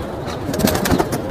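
Teddy Kalsare pigeons at a loft in Santacruz East, Mumbai, coo in soft, low, throaty pulses amid a close, steady wash of background noise.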